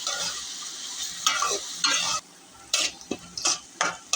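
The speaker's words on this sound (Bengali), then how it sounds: "এখন গাজর, মটর, চিনি এগুলো দিয়ে দিব। এখন এগুলো একটু ভাজবো।" Carrots, peas, onion and sugar sizzle as they are stir-fried in a pan, with a steady hiss broken by bursts of scraping strokes from the spatula, a short quiet gap, then more stirring.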